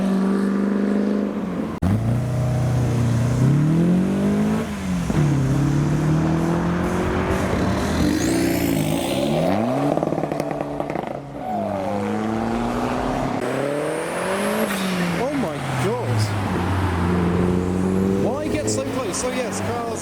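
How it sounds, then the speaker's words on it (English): A loud supercharged car engine accelerates repeatedly up a road while leaving a large car meet, pitch climbing with each gear, and a high supercharger whine rising above the roar during the pulls. "we can hopefully capture the whine of his blower as he accelerates up the"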